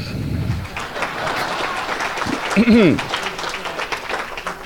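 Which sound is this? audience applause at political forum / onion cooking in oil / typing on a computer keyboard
audience applause at political forum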